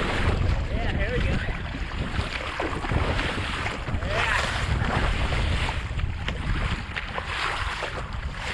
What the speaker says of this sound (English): Okay, here goes the boat.